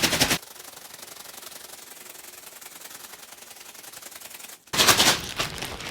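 A Ziploc bag of milk shaken in ice to make ice cream gives rapid, rhythmic rattling and rustling bursts at the start and end, with quieter scratchy shuffling in between.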